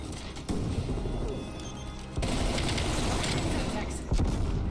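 A sentry turret fires bullets in a video game, producing sustained rapid gunfire and crashing impacts that grow louder partway through, over a dense background of game noise with voices speaking.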